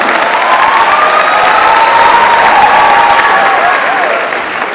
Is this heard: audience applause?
yes